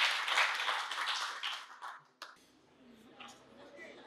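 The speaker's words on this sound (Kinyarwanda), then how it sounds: "Reka twongere Yesu amashyi menshi" A church congregation claps for Jesus, a burst of many hands clapping loudly together that fades away after about two seconds, then a quieter stretch with a voice speaking.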